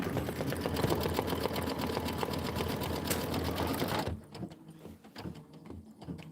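An embroidery machine stitches a butterfly design in Isacord thread with a rapid, steady needle chatter for about four seconds, then slows to scattered clicks and quieter mechanical movements, close up.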